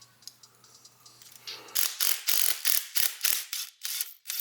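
A homemade bushing puller works a bushing out of a 70cc Yamaha Zuma scooter. After a faint quiet stretch, close, loud metallic ratcheting and creaking bursts repeat in quick rhythmic strokes.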